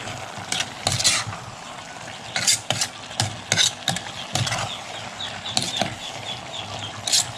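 Mushrooms and vegetables stirred in a cooking pan, with repeated scraping clatters of the utensil against the pan over a faint sizzle, arriving in irregular bursts.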